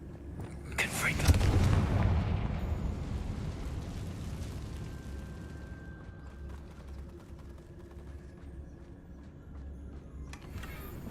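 A Confringo fire spell explodes in the Hogwarts Legacy video game, a sharp loud blast that swells into a rumbling roar and slowly fades over several seconds, followed by quieter game ambience.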